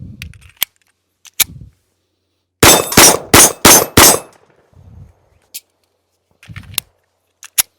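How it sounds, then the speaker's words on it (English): A PSA Dagger Micro C1 pistol fires five quick, loud shots in a tight burst, with scattered clinks and handling noises before and after. "we're just going to shoot a few rounds in each magazine"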